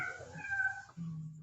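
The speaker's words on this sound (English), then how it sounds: "I got cats meowing" A domestic cat meows close by, one drawn-out call followed by a shorter, lower cry, with no talk over it.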